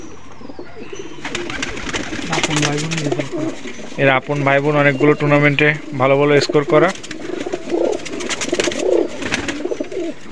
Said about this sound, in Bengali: এটা একটা গলালাল এবং তুলো জেনারেশনের কবুতর